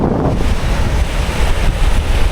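Waves at Kuantan beach, with heavy surf rolling and washing in continuously, loud and close, mixed with strong wind buffeting the microphone.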